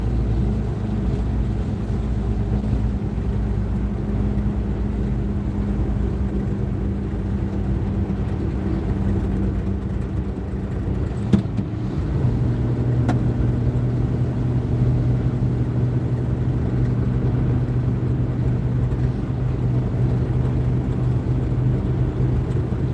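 A small truck rolls along dirt roads at night in Northern Michigan, its engine and tires making a steady low rumble throughout, with a single sharp knock partway through.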